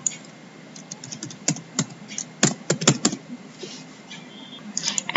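Rapid keystrokes on a computer keyboard as a password is entered, irregular clicks in short bursts with pauses, close and moderately loud with no one talking.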